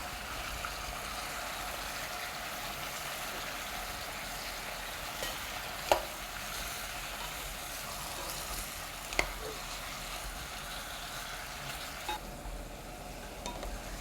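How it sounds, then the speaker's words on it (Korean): Kimchi stew ingredients, including meat, stir-fried with a spatula in a pot over medium heat, giving a steady low sizzle throughout with two sharp utensil knocks and no talking. "볶음 주걱으로 재료를 볶아주세요"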